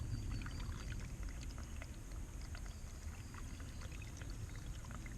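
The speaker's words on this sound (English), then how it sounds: "That's called a babbling brook" A shallow babbling brook at Slaty Creek flows and burbles steadily, a soft low watery churn with small bright splashes, faint and continuous with no talk.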